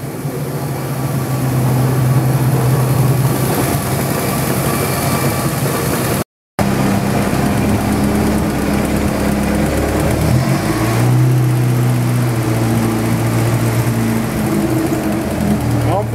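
A Chevrolet Opala engine idles steadily just after starting, a deep continuous rumble with shifting low tones, broken by a brief dropout near the middle and overlaid in places by speech.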